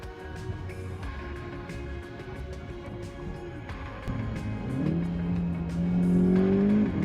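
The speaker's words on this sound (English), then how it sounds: "which is the 2019 Volkswagen GTI Rabbit Edition. And I would like to take you with me, as always, to see how it drives." A 2019 Volkswagen GTI Rabbit Edition is being driven, with a steady engine hum that climbs in pitch as the car accelerates. The engine grows louder toward the end, and road noise runs underneath.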